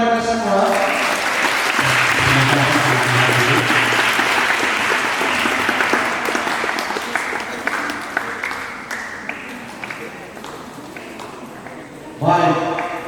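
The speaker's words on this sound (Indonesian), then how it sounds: "Tepuk tangan untuk mereka semua." Applause from a class VII and VIII students' recollection gathering, a dense clapping wash filling the room for about twelve seconds and slowly thinning, with a voice cutting in near the end.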